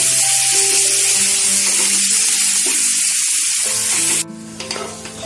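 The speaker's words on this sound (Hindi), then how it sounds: "अब हम इसमें ऐड करेंगे अनियन कुक करेंगे।" Onions frying in oil in a pan for Amritsari chhole, a steady loud sizzle that drops off near the end into softer crackling and stirring.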